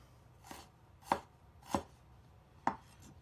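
A knife on a cutting board slices fresh ginger into matchsticks, four separate sharp chops spaced unevenly about half a second apart, close and clear against a quiet room.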